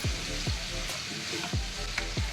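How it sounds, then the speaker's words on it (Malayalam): Chopped beetroot sizzles in a hot pan with popped mustard seeds while a spoon stirs it, scraping in a regular rhythm about twice a second over continuous frying crackle, close up with no voices. "കടുക് പൊട്ടി വന്നപ്പോൾ ഞാൻ ബീട്രൂട്ട് അതിലോട്ട് ഇട്ട് കൊടുത്തിട്ടുണ്ട് നമുക്കിനി ഇളക്കി കൊടുക്കാം"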